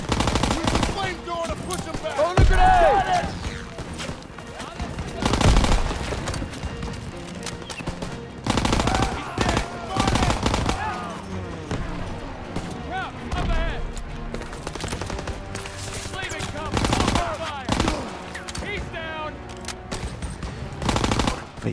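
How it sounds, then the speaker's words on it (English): Rapid bursts of machine-gun and rifle fire with scattered booms in a Call of Duty WW2 battle, loud and near, coming in repeated volleys across the whole stretch while voices talk over it. "Suppressive fire. Keep firing."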